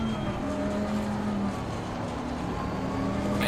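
A race car engine drones steadily in Assetto Corsa Competizione, with a tonal whine holding and shifting as another car draws alongside on the left, loud and close throughout.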